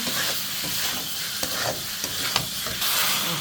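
Chicken kofta curry is sautéed with spices in a pan, a loud, close sizzle with scraping stirs and a few sharp utensil clicks throughout, no talking.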